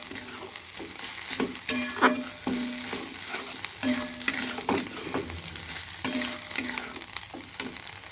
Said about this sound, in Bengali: মশলাটা দিয়ে আমি খুব ভালো করে কষবো।